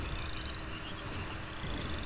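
Big frogs croak in a video game over a dense, steady wash of ambient game noise that holds a constant level for about two seconds, with no voices.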